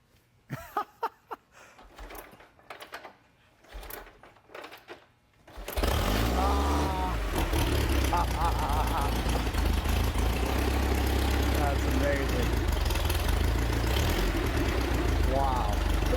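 Motorcycle engine starts after quiet handling noises and settles into a loud, steady close idle that runs to the end, with voices in the background.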